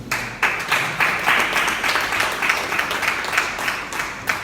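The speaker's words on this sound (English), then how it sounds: "I want to ask you to also give Chief another round of applause." Audience applause for a speaker at a public talk, a dense steady patter of clapping that fills the whole stretch at moderate loudness with no voices on top.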